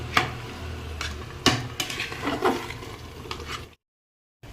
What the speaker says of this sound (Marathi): हे बघा, चांगलं मिक्स करून घ्यायचं आहे.